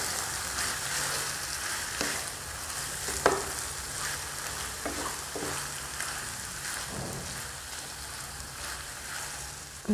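Leftover rice biryani stirred in a kadhai over a low gas flame: a steady sizzle with repeated spoon scrapes and clicks against the metal pan over ten seconds, no voices.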